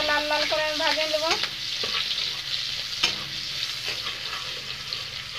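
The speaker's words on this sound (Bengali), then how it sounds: "এখন নাড়াচাড়া করে যে আমি ভালোভাবে লাল লাল করে আমি ভাজিয়ে নেব।" Chopped onion and green chili fry in a pan while being stirred, a continuous sizzle broken by scraping spatula strokes and a couple of sharp knocks, with a brief tonal whine early on.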